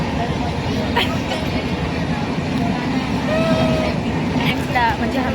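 Inside a moving passenger train, a steady low rumble and rattle continue throughout, with a few squeaks and people talking in the carriage.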